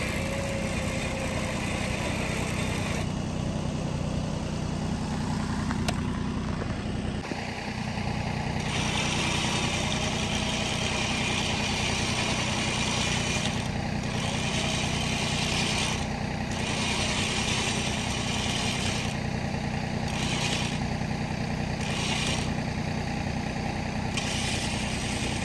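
A small tractor engine idles steadily nearby, a constant mechanical drone with a slight rise and dip partway through, with no talking.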